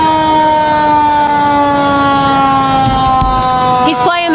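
Fire truck siren at a Christmas parade, held as a steady, fairly low wailing tone throughout with crowd noise beneath and a brief burst of horn-like blasts near the end.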